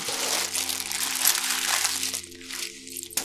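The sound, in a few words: crinkling a plastic bag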